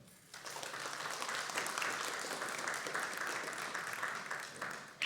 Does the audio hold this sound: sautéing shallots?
no